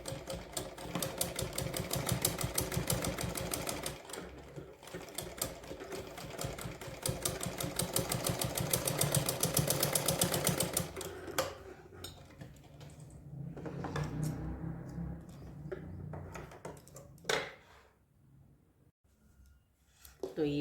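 A sewing machine stitches a cotton summer dress for a small Laddu Gopal figure with a rapid, even mechanical clatter. It runs in steady bursts for about ten seconds, then gives way to quieter handling noises, with a voice heard at times.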